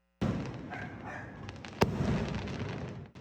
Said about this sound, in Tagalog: Kita-kita rin ang fireworks display hindi lamang sa parke, kundi maging sa mga tahanan ng ilang residente